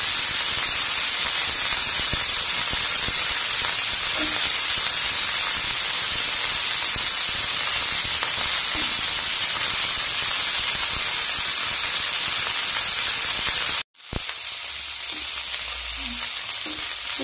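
Cauliflower fries in oil over low heat, a constant close bright sizzle and hiss that runs unbroken, then cuts off abruptly near the end, leaving quieter kitchen background.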